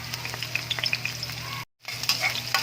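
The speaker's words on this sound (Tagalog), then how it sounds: "Sunod na natin tong sibuyas sa kabawang. Pagsasabay na natin yan." Onion and garlic sauté in hot oil for a corn and moringa dish, a bright continuous sizzle close by that cuts out briefly and then resumes.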